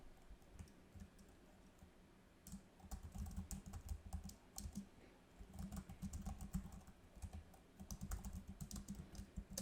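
A long phrase is typed on a computer keyboard in a steady run of close, crisp key clicks. Brief pauses break the run before it resumes, with no talking.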